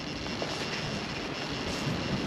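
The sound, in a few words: Goosky RS7 RC helicopter spooling up, loose gear mesh noise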